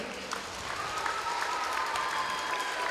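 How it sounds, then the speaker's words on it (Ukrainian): Steady audience applause at a rhythmic gymnastics school event in Zhytomyr, a continuous even wash of many hands clapping, moderately loud and sustained throughout. "Ваші оплески."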